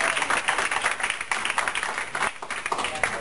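A church congregation applauding, dense steady clapping from many hands filling the room with a brief dip partway through.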